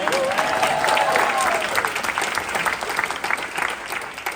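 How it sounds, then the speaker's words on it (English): An audience claps for a speech at a symposium, a dense burst of applause that stays full and steady before slowly thinning, heard from within the crowd. "can we get another round of applause for Summer's speech"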